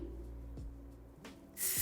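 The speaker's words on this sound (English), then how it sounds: "I'm kind of spraying this underneath and down through the ends as well." Quiet handling noises, then a short burst of hissing Kenra Spray Clay 15 sprayed onto hair at the end, close and fairly loud against the hush.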